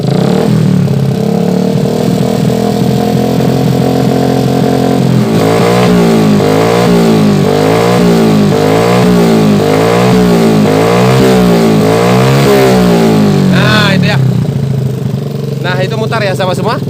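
A Yamaha MX motorcycle engine idles loudly up close, then revs in repeated rising and falling surges as the throttle is worked during a radiator fan test, with someone talking over it.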